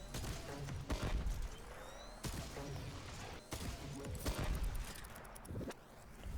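Repeated gunfire in the video game Warframe, bursts of shots spammed alongside ability effects over a dense game soundscape, loud and continuous with sharp transients throughout.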